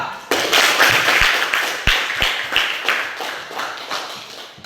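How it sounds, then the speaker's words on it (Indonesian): A class of students claps in applause, a burst of many hands starting sharply, then fading gradually with a few louder claps standing out, fairly close. "Beri aplaus dong."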